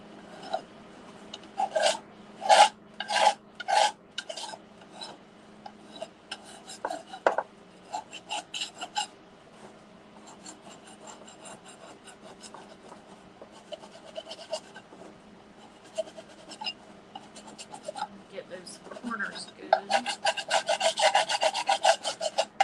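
A hand scraper rasps old finish off a repurposed wooden piece in quick repeated strokes, close and dry, with pauses between, then a dense run of fast scraping near the end; no speech.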